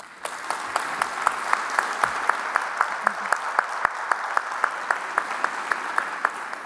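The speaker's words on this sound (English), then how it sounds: "they all deserve a special round of applause" A conference audience applauds steadily, with many hands clapping in a regular rhythm at moderate distance.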